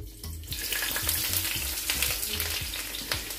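Onions frying in a pan for a minced-meat filling, a close crackling sizzle that rises quickly and holds steady, with light stirring scrapes.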